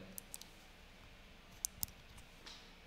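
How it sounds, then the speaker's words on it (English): A micro SD memory card pushed into the slot of a GoPro Hero 10, giving two sharp, close clicks in quick succession plus a few lighter ticks, all quiet and without talk. "slide it in, push it until you hear a nice click"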